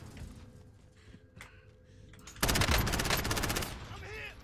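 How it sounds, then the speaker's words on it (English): Bursts of rapid automatic gunfire in the Call of Duty Modern Warfare video game, a loud dense rattle erupting after quieter background sounds, with players talking faintly underneath. "I'm shooting him."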